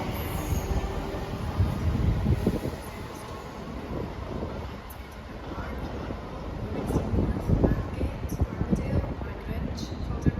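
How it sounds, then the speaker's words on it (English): A slightly delayed ScotRail service from Dundee to Edinburgh Waverley pulls out of Haymarket station with a steady rolling rumble and wheel clatter, fairly near and continuous. "Departing out now is the slightly delayed 1607 ScotRail service from Dundee to Edinburgh Waverley."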